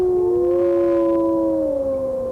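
Several wolves of a Yellowstone pack howl together in overlapping, sustained tones that rise and slowly fall, loud and clear.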